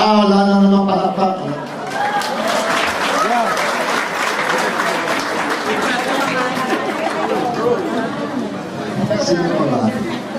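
Scattered applause mixed with chatter from a crowd at a political proclamation rally, steady and moderately loud, with voices talking over it.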